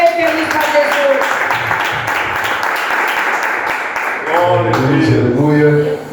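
A church congregation claps to welcome a preacher, a dense, continuous round of applause from many hands filling the room, with voices and singing-like speech rising over it toward the end.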